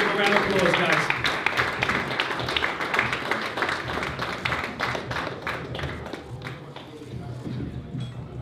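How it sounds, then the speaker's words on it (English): Audience applause at a PFL Europe championship press conference in Dublin, a dense wash of clapping from a room crowd that carries on steadily throughout, fairly loud and even, with some voices mixed in. "Give a round of applause, guys."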